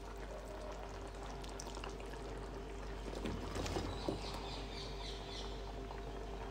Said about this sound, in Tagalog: Hinalo-halo ko nga lamang para kumalat yung gata at hayaan lamang natin hanggang sa kumulo.